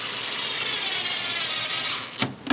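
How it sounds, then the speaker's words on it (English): A screw gun drives screws into a soft plastic stone crab trap, a steady close whirring run followed by two short sharp bursts near the end. "if you're using a screw gun like I am"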